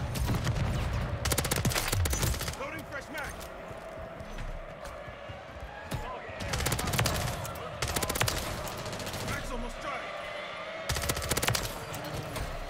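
An HRM-9 SMG fires in Modern Warfare 3 in several loud, rapid automatic bursts separated by brief pauses, with footsteps and game ambience between them.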